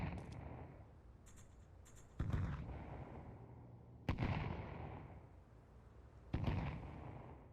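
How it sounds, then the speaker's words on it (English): Grenade blasts in Counter-Strike 2 thud out one after another, four sharp bangs with long rumbling, fading tails, each separated by a couple of seconds and heard without any talk. "Valve finally reduced the maximum audible distance of the grenade-bound sounds"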